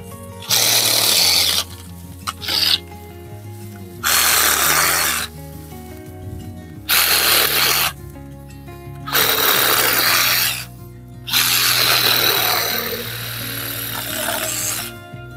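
A Parkside PAAS 12 B2 12V cordless garden saw cuts a branch in repeated bursts of a few seconds each, loud and close, with short quiet pauses between strokes.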